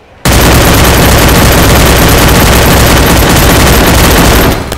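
Dense, continuous automatic gunfire in a Free Fire match fills the whole stretch, loud and close, sustained bursts with booming low end and no talk over it.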